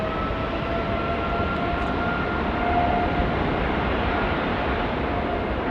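A Qantas airliner rolls for takeoff at Sydney Airport, a steady, broad jet roar heard from a distance that holds evenly throughout with faint tonal whine on top.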